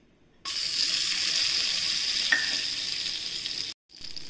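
Butter hits a hot pan for dal makhani and erupts into a loud, bright, continuous sizzle for about three seconds, cuts off abruptly, then resumes briefly.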